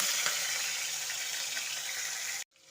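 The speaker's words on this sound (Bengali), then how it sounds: "এখন আমি মাছগুলো ভেজে নেব।" Salt-and-turmeric-coated prawns frying in a pan, a steady broadband sizzle that holds loud and even for over two seconds before cutting off abruptly into near silence.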